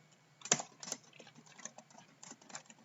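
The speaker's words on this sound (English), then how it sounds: "you just simply type a T on your keyboard" Light, faint keystrokes on a computer keyboard, a short irregular run of clicks and taps with one sharper key press near the start, quiet and alone.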